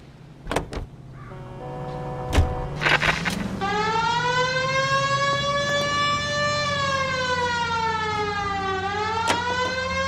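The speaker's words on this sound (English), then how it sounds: "We have a siren." A wailing police car siren in the video game L.A. Noire Remastered rises and holds, sweeping slowly up and down after a few clunks and thumps, loud and close.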